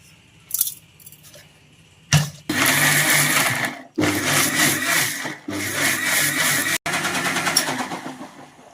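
A kitchen mixer grinder blends beetroot juice in loud, close bursts of whirring and grinding, several pulses separated by brief stops, after some faint handling sounds at the start.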